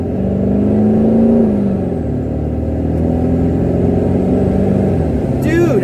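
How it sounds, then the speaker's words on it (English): A 1996 Ford F-250 with a 7.3L diesel and an aftermarket tuner accelerating hard and spinning its tires, heard as a loud rising engine drone from inside the cab, with a short squeal near the end. "Oh, we spun the tires, let's go!"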